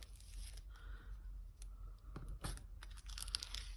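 Tape is peeled off cardstock in a few quick tearing strips with crinkly rustles between them, close and fairly quiet, during stencil marbling crafting.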